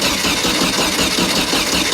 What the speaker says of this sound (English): pull the trigger and see if it cranks over better